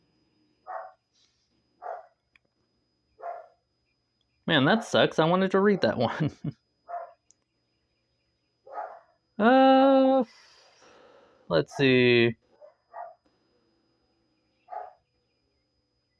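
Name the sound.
dogs barking in the background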